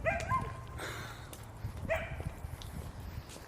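A dog barks outside a few times, short yelps spaced apart and at moderate distance, over a low steady background rumble.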